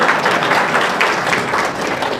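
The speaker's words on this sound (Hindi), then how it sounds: "1 या 2 लोग हैं, इनके लिए ताली बजाइए" A seated audience at a talk applauds a couple of hard-working people after a show of hands, producing a steady wash of dense clapping that holds for a couple of seconds at moderate loudness.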